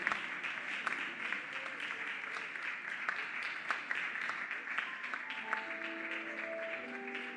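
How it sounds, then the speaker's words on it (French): A crowd applauds steadily throughout, dense clapping filling the room, with a few sustained tones creeping in near the end. "sous vos applaudissements"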